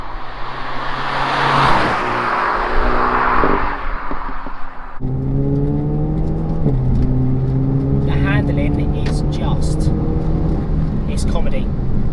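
Renault Megane RS Trophy taking a corner, its engine note holding a steady harmonic drone that rises and shifts in pitch as it accelerates through, loud and close inside the cabin, with road and tyre rumble beneath.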